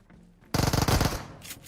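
A sudden burst of rapid automatic gunfire in the mobile battle royale game BGMI, a loud rattling volley of about a dozen shots after a quiet start, then a fading tail.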